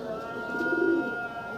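A female Andhra pigeon gives a soft low coo that swells briefly mid-clip, close by, over a faint steady hum and background noise.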